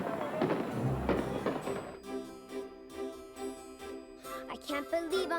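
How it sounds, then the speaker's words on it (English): A fireworks display closes an anniversary evening event, with scattered crackling bursts over music and faint voices in the background. "And a fireworks display ended an enchanted evening."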